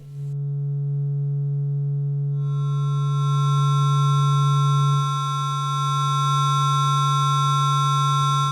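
A steady, buzzy ring-modulated synthesizer tone from a Behringer 2600 holds for several seconds, growing brighter and more metallic partway through, loud and alone without any voices.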